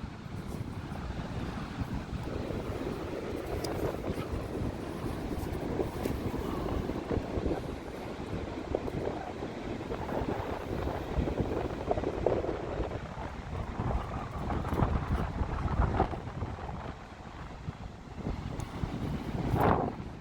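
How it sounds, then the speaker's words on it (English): Heavy wind buffeting a phone microphone with a constant low rumble, while surf washes steadily in the background at Fistral Beach in December. "Sorry about the wind, I'm using my phone."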